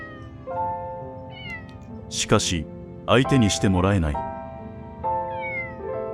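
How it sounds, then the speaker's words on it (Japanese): A cat meows at another cat in a few short, rising calls in the middle, while a narrator speaks over and around them. "決して内向的な性格ではないので、猫相手にも積極的に声をかける。"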